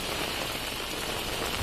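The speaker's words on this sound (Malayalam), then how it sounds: "ഇടുക്കിയിൽ വിവിധ മേഖലകളിൽ കനത്ത മഴ തന്നെയാണ് പെയ്തുകൊണ്ടിരിക്കുന്നത്" Heavy monsoon rain pours down in Idukki, Kerala, a dense, even hiss of downpour that stays loud and unbroken with no voices.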